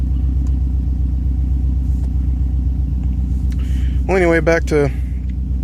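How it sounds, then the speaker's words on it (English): The engine of a 2009 Subaru WRX, backing into a garage, idles with a loud, steady, close low rumble throughout, and someone speaks briefly over it near the end. "I just pulled it out of my garage and I'm gonna back it right back in there"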